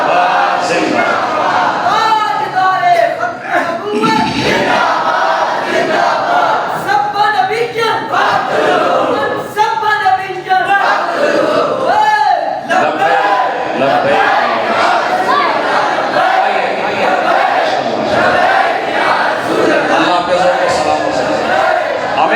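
A crowd gathered at a mehfil-e-meelad chants religious slogans together, many voices merging into a loud, sustained roar that rises and falls in waves.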